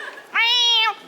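A person imitates a cat's meow during a fast-paced animal-sounds game, a single drawn-out, tonal mew lasting about half a second, close and loud, with faint background murmur before it.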